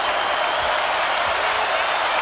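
A basketball arena crowd at a Notre Dame at North Carolina NCAA men's game breaks into steady, dense applause, a loud wash of clapping that fills the whole stretch.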